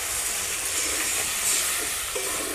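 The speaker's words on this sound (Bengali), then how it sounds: "এবার ঝোলের জন্য জল দিয়ে দেবো।" Water is poured into sizzling fried spices for a fish curry, a loud, dense steaming hiss that swells briefly midway, close and continuous with no speech.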